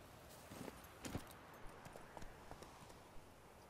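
A horse's hooves clip-clopping at a walk in The Witcher 3: Wild Hunt, a steady series of soft, fairly faint thuds over a quiet ambient bed.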